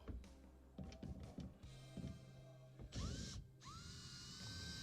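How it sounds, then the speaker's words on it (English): Ratchet wrench clicking as it backs out quarter-inch screws from the electrical wiring panel of a GE dishwasher, close and fairly loud, with short bursts of rapid ratcheting and a few higher whirring strokes. "we're going to go ahead and remove these two 1/4 screws that holds the electrical panel for the wiring"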